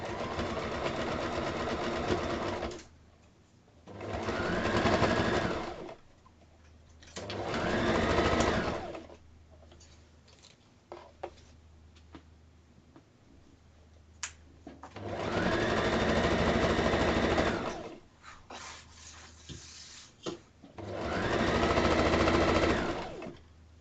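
Sewing machine stitching fabric in several long bursts of steady rapid whirring, separated by quiet pauses with faint handling clicks, close and fairly loud.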